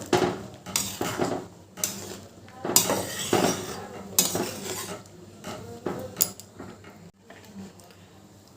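Spoon scraping and clinking against a metal pot while cashews and raisins are stirred into veg dal, in irregular bursts of clatter with brief pauses, close and moderately loud.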